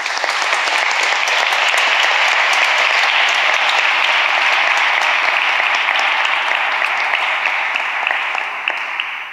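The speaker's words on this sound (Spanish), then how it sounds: "les pido un caluroso aplauso" Warm, sustained applause from the audience at a bullfighting proclamation in Úbeda, dense and loud clapping holding steady before tapering slightly at the end.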